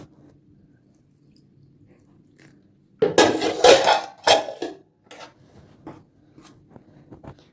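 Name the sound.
mixing batter with water in a bowl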